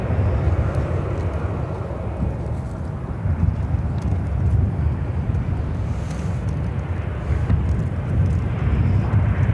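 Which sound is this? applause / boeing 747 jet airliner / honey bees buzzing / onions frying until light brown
boeing 747 jet airliner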